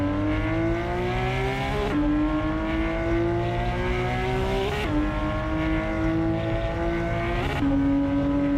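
A Mercedes or Porsche race car in Assetto Corsa screams at high revs with a continuous loud engine note, rising through each gear before sharp upshifts while the car slides with little traction.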